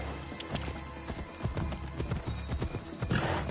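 Horse hooves clip-clopping at a gallop in Assassin's Creed Odyssey, a steady rhythmic beat with snorts and whinnies, loud and close throughout.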